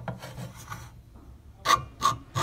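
A hand file rasps across a piece of aluminum scrap in a few scraping strokes, soft at first, then three sharper, louder rasping passes near the end.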